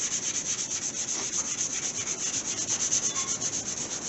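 Rapid rhythmic strokes of 220 grit sandpaper rubbing over a Gremlin's car body in a spot rust repair, a close, even scratching that pulses with each back-and-forth pass, with no voices.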